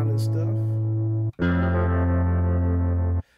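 A bluesy distorted guitar-style tone from a software instrument plugin plays two loud, sustained, heavily processed notes with chorus and effects, briefly cut between them.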